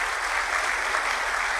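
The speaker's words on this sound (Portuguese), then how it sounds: "Vamos aplaudir o pastor Fábio" Church congregation applauding a pastor during a worship service, a steady, even wash of clapping that fills the short stretch without any talking.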